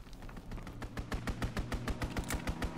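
Rapid machine-gun fire from a fighter plane strafing run in Call of Duty WWII, a fast rhythmic burst of loud, close gunshots continuing for several seconds.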